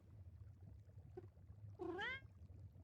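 A cat meows once nearby, a clear rising-and-falling call near the end of the clip, over a low steady hum, with no voices.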